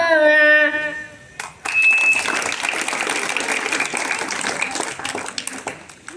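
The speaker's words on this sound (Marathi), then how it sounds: "चांगल्या प्रकारे जोरदार टाळ्या होत्या." Strong applause from a school audience at a Zilla Parishad primary school programme, bursting in after a short sung passage and continuing as dense, loud clapping to the end.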